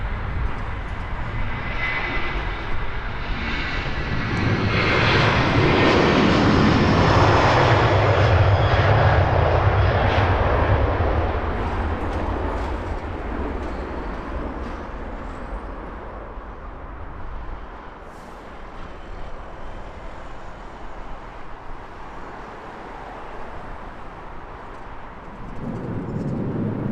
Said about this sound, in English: Light on the planes as they climb out at the moment.